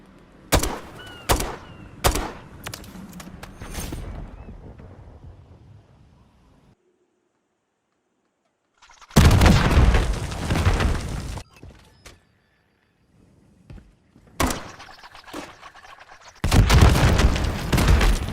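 Spawn tubes being fired in Modern Warfare III on the Vista map: a run of quick sharp bursts, a lull, then several long loud roaring blasts in separate bursts, no talk.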